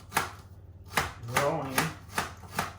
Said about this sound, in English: Just going to finely slice a cucumber.